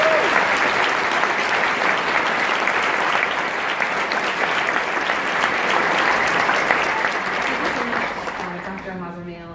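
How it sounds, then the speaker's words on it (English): Sustained audience applause fills a graduation ceremony hall, steady and dense for several seconds before it thins out and a voice begins speaking at the end. "So please give Mary a big round of applause"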